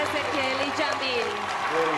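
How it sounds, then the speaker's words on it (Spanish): An audience applauds with sustained clapping as a voice talks over it. "Un fuerte, fuerte aplauso para Ezequiel y Jamil."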